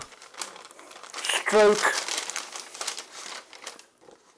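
Plastic bag crinkling as a Tamiya TT-01E Buggyra Fat Fox racing truck model kit is unwrapped, loud rustling crackles lasting a few seconds, close by, mixed with excited talk.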